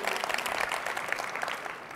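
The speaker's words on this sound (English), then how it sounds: "nice applause there" Applause from a keynote audience at a tech conference, a dense steady patter of many hands clapping throughout, fairly distant and thinning slightly toward the end.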